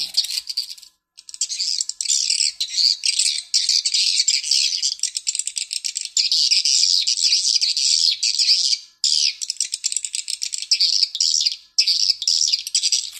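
Dense, rapid high-pitched chirping calls of swiftlets, continuous and loud, with a few short gaps, sounding like a busy flock close by.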